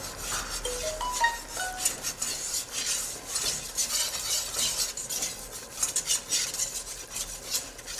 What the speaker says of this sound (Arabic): من بعد ما دابت الزبده غنزيد الطحين، نحاول ما امكن نسرع التحرك مزيان بقوي